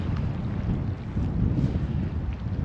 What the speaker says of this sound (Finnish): Aikamoinen tuuli käy tässä.